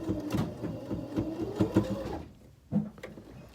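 A sewing machine stitches in a quick, rhythmic run to reinforce the seam of a fabric popcorn bag, stops, then gives a short final burst, all fairly faint and close.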